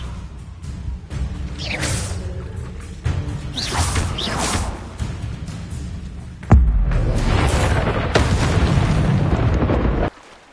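Spells are cast in the Hogwarts Legacy video game: a run of loud whooshing bursts and booming impacts follows one after another, ending in a heavier blast and a sustained roar before cutting off.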